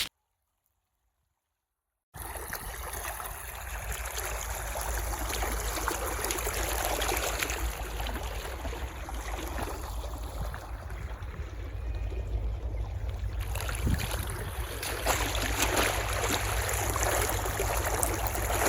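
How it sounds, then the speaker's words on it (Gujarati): Water gushes from a pipe into a farm field, a steady, close rushing flow that starts after about two seconds of silence and continues evenly, with no talking. "તમે જોઈ શકો છો કેવું પાઇપમાં પાણી આવે છે"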